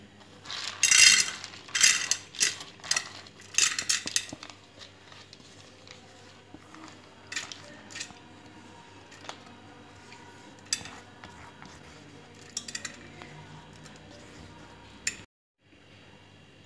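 Washed toor dal lentils going into a small pressure cooker: a cluster of rattling, pattering clinks of grains and metal at the start, then sparse faint taps and knocks, with quiet speech in places.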